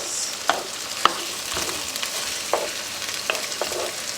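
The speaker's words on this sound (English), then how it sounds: "Stir up that meat, get it all nice and cooked before you add anything else." Pork and garlic sizzling in a pan while being stirred, a steady frying hiss broken by sharp scraping and clinking strokes of the spoon.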